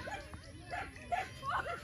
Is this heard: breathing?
no